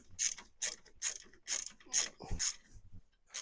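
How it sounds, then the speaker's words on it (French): A small ratchet clicking while tightening brake parts on a Renault Clio 2, six or seven sharp, close clicks in an even rhythm with brief gaps between them. "j'avance au petit cliquet hein, et je viens toujours serrer ça à la clé dynamo"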